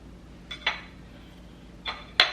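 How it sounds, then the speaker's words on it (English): Two pairs of quick metallic scrapes and clinks as a spatula is scraped clean while mixing scone dough, sharp and close in an otherwise quiet kitchen. "I'm going to scrape the spatula off."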